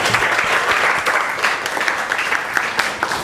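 Classroom audience of students clapping together, a dense steady applause that fills the whole stretch at close range, with no voices rising above it.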